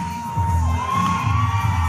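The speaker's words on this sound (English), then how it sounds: "Listen to the crowd response." A wrestling arena crowd cheers and whoops for the tag team TW3, a loud burst of mixed shouting over a sustained tone from the building's sound system.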